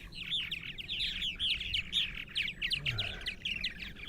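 Purple martins call outdoors on eastern Long Island, New York, a steady flurry of high chirps and warbling notes from several birds at moderate distance.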